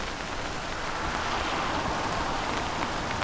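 Steady rain falling on a quiet street, a dense, even hiss with soft tapping mixed in, close and continuous with no distinct drops standing out.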